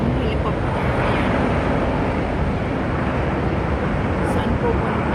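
A helicopter's loud, steady engine and rotor drone passes overhead in Yuen Long, Hong Kong, a continuous rumble that holds at an even level throughout.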